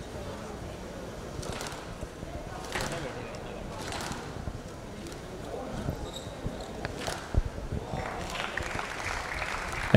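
Crowd applause rises at a squash match during a quarter-final of the CCI International, after a backhand volley winner, with a broad, steady wash of clapping and a few sharp peaks, under a commentator's running talk.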